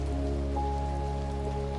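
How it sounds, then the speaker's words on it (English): Rain falls steadily outside a cabin among pine trees, an even, unbroken hiss with a low hum beneath it, alone and without any talk. "Rain falls in long, steady lines"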